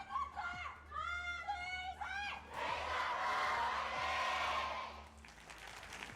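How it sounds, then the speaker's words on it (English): A large crowd at an esports grand final in Korea roars and cheers loudly for several seconds. A commentator's voice speaks just before and over the noise, which then fades. "The crowd is loud."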